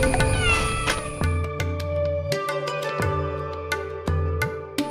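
Cats meow and wail insistently for fish, calls overlapping one after another, near and fairly loud, with occasional sharp clatters in between.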